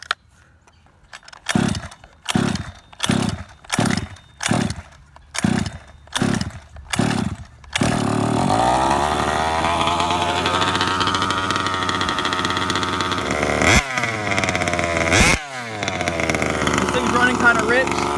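A gas-powered large-scale HPI Baja RC car engine, running rich, fires in a series of short repeated pull-start bursts, then catches and runs loud and continuous, with a couple of sharp revs near the end.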